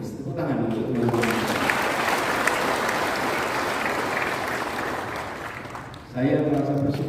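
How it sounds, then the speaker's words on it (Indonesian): An audience of Go Anies volunteers breaks into sustained applause, with loud dense clapping that fades toward the end as a voice resumes talking over a microphone. "Tepuk tangan untuk teman-teman."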